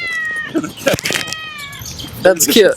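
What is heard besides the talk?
toy cat ball meowing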